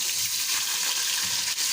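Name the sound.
rice grains frying in a pan until golden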